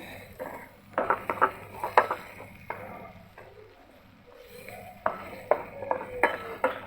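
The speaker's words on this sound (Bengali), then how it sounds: "আলু, পেঁয়াজ ও মশলাটা আমি ভালো মতো ভেজে নিচ্ছি" A spatula clinks and scrapes against a pan while potato, onion, cumin and garam masala fry for a beef liver bhuna, in two bursts of sharp metallic taps separated by a quieter lull.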